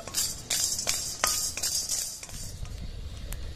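Marathi moggu spice dry roasting in a pan, stirred with a metal spoon that scrapes and clinks against the pan in quick repeated strokes over a faint crackling sizzle.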